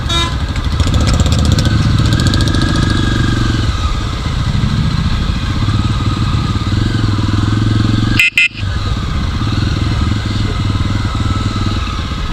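A Jawa motorcycle ridden through heavy rain gives a loud, steady engine drone blended with dense rain and wind hiss, with a brief dropout partway through.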